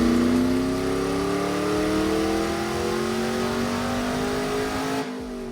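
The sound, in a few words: Chevrolet LS V8 engine revving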